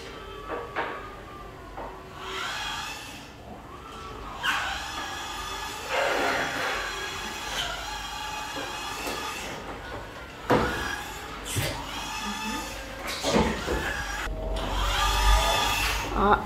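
Motorized stair-climbing wheelchair descending a stairwell, with whirring motor, mechanical clunks and thuds as it steps down, while people talk over it.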